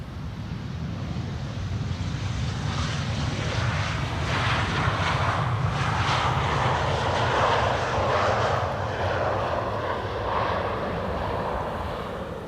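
KLM Cargo Boeing 747-400 operated by Martinair, landing at Schiphol on the Polderbaan runway 18R, with a loud, steady jet engine roar that swells slightly mid-way, mixed with wind buffeting on the microphone.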